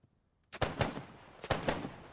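Gunfire in the Post Scriptum video game: after a quiet moment, two quick bursts of shots crack out nearby, each holding a few closely spaced reports.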